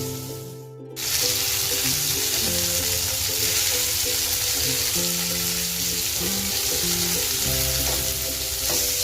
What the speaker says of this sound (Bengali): তারপর খাওয়ার আগে ঠিক আটার মধ্যে এভাবে চুবিয়ে চুবিয়ে আমরা গরম তেলে ভেজে নিব।